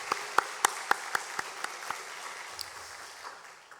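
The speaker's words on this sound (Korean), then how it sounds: "우리 감사와 영광의 박수 한 번 더 우리 하나님께 올려드리겠습니다" A church congregation gives a short round of applause during a Sunday worship service. The first claps stand out as sharp separate strikes, then the clapping thins and fades out over a few seconds.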